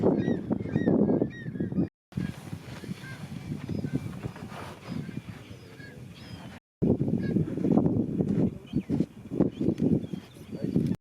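Geese and other water birds on a lagoon at Cotopaxi, Ecuador, honking loudly and repeatedly in dense overlapping calls, close by, with brief silent gaps.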